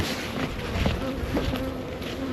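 Honeybees from a newly installed package buzz steadily inside a top bar hive as they clean the combs, a continuous close drone with no talk over it.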